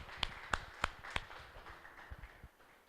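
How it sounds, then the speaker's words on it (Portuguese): Hand claps in a church service, a handful of crisp claps in a short run followed by a few softer, duller ones, faint and distant in a quiet hall. "Uma salva de palmas pelo entendimento que Deus nos dá."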